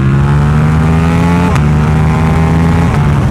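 A Ducati Diavel motorcycle pulls a third-gear roll-on from 5,000 rpm, its engine a loud, close, rising drone that climbs in pitch, with two quick dips where the tone briefly drops before it climbs again.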